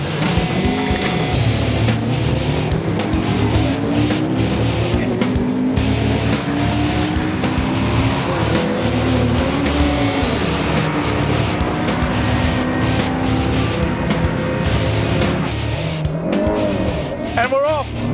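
A Mazda MX-5 and a Honda S2000 launch in a drag race, heard from inside one car as its engine roars and climbs steadily through the gears. Tire noise runs under the loud, continuous engine sound.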